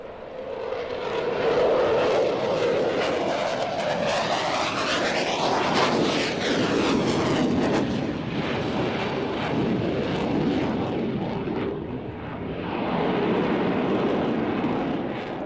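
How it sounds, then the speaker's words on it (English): A French Rafale fighter jet from Saint-Dizier makes a loud, roaring flyby, the engine noise sweeping past with a rising and falling whine, then a second pass swelling up again near the end. "this was just a flyby a couple of times"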